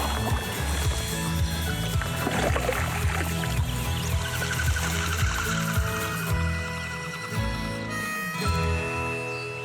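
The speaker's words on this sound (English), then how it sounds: "My plan for today is to paddle and see how much ground I can cover." A canoe or kayak paddled through water in the wild, with continuous splashing and watery rushing close by, dense and fairly loud throughout; no talking.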